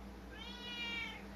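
A cat meows in a drawn-out, rising and falling cry, close and fairly clear over a low steady hum.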